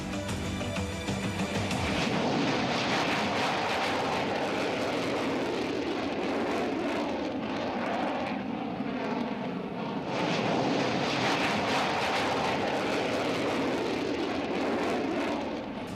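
Rafale fighter jets of the Indian Air Force flying over Ladakh, a continuous loud roaring jet rumble that swells and fades slightly across the whole stretch, with no voices.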